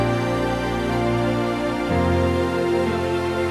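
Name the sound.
piano added to string ensemble patches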